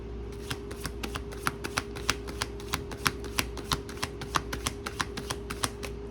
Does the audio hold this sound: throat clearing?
no